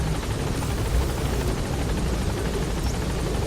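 A Huey helicopter in a video game drones in a loud, dense, steady rotor roar that fills the whole moment without letup.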